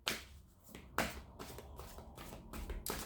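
A deck of fairy oracle cards is shuffled by hand at close range, in crisp riffling bursts separated by brief pauses, with no talking.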